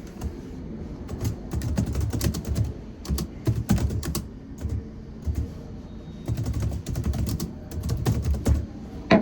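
Rapid bursts of clicking keystrokes on a computer keyboard as a WhatsApp Business festival greeting is typed, close and steady with brief pauses between runs, no talking.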